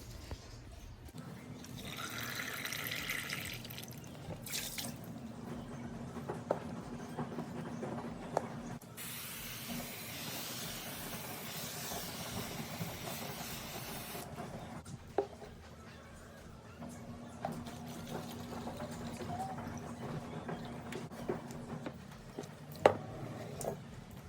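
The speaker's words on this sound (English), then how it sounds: "now I will just dump the water out" Water runs and splashes in bursts with a hissing, spraying quality as it is dumped from a self-watering orchid pot, alongside soft handling noises and occasional clunks.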